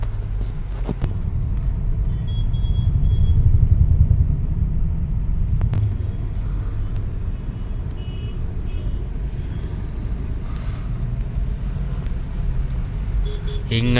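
Road traffic rumbles past the Electronic City toll plaza in Bangalore, a steady, close low drone of cars and trucks with engine swells, a brief surge near the start and faint beeps in the background.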